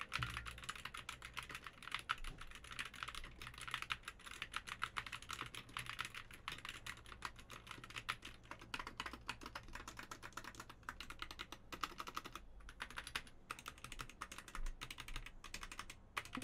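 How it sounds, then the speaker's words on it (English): Rapid, continuous clatter of typing on a computer keyboard, close and fairly quiet, with steady keystrokes and no talking. "Should I do a quick typing test?"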